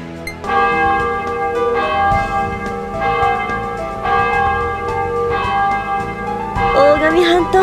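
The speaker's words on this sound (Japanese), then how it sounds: "二人でクリスマスの鐘の音を教会で聞けるやなんて" Church bells peal on Christmas night inside a game scene, loud, resonant strikes ringing out in repeated rounds with long sustained tones, and a brief chime-like flourish toward the end.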